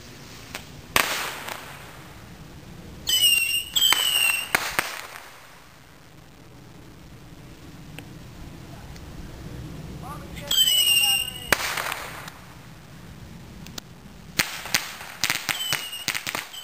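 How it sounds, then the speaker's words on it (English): Fourth of July fireworks go off in a series of sharp, loud bangs and cracks, some with whistling, crackling trails, separated by quieter stretches of outdoor background. "Just a couple explosions for this great 4th of July weekend."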